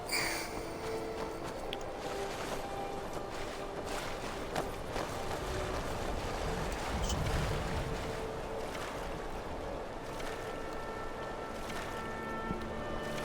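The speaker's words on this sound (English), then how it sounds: "It's really, really windy right now." Strong wind in the Skyrim video game, a continuous loud rushing gust with no speech over it.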